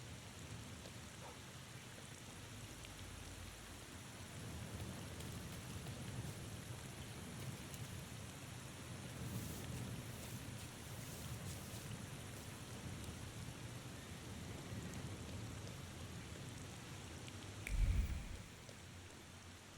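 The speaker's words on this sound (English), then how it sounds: "For the time being, let's get out of the rain." Steady rain pours down in the video game The Thaumaturge, a soft, even hiss of falling water that continues without a break, with one brief low rumble near the end.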